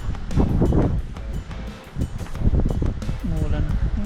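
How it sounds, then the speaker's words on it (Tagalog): Strong gusting typhoon wind with rain roars and buffets close to the microphone, with a person talking over it. "Lakas po ng hangin."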